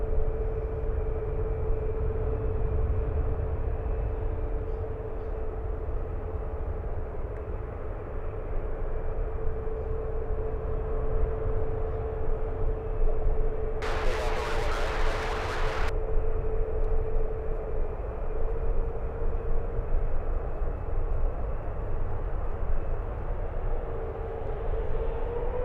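A CRJ regional jet taxiing back to the gate at SFO after a rejected takeoff on runway 1 right, a steady distant engine drone with a constant whine, briefly joined by a short burst of broadband roar mid-way.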